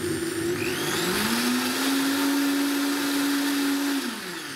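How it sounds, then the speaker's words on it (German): A high-performance blender purees beer-cheese soup, a loud, steady motor whine that ramps up in pitch, holds, then drops as it winds down, close and without talk. "jetzt mixen wir das gute Stück einmal durch"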